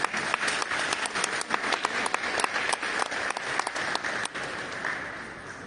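An audience at a ministry reception for a traditional art collection claps steadily for an award-winning guest, with dense, even applause that lasts several seconds before easing off slightly at the end.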